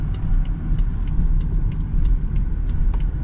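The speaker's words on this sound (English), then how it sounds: "I'm just gonna go for some driving really quick" A 2011 BMW X3 driving, steady low engine and road rumble from inside the cabin with faint ticking, continuous and fairly loud with no talking.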